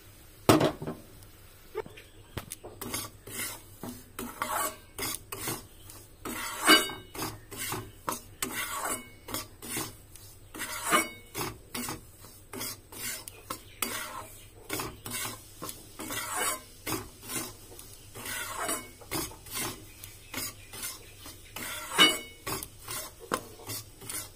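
Repeated scraping strokes of a spoon stirring semolina frying in ghee in a pan, with a soft sizzle underneath, in a steady rhythm over a long stretch.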